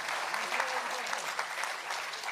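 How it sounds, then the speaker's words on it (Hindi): An audience claps together at an Urdu poetry recital, a continuous, fairly faint patter of many hands heard at some distance. "सब मिलके ही बजा दीजिए तालियां"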